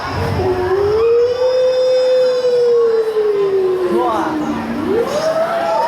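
A voice imitates an ambulance siren in a sustained, wavering wail with a rising and falling pitch, loud and close, during a humorous Sundanese sermon.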